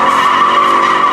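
Loud continuous tire squeal from a Toyota 86/BRZ sliding sideways in a drift, a steady close screech with engine noise underneath and no voices.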